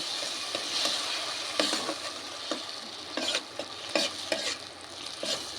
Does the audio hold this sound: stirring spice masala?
yes